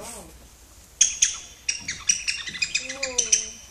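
A toy whistle imitates bird calls, producing a rapid series of bright chirps and warbling tweets close by, with a brief voice murmur before it starts.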